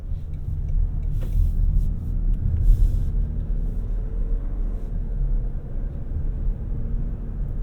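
Cabin rumble from a 2025 Toyota Crown Platinum Hybrid MAX under way: a steady, low road and drivetrain drone with a few faint bumps and rattles, and no talking.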